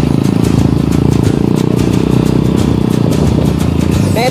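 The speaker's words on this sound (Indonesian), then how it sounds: "Click ko na motor kaya dito." A Honda Click scooter rides a mountain trail, its small engine running loud and close in a steady buzzing drone with constant rattling, and no pauses.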